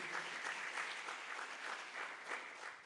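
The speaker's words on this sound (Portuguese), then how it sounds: "Vamos aplaudir ao Senhor" A church congregation applauds during a worship service, a steady wash of clapping that holds even and moderately distant for about three seconds, with no voices over it.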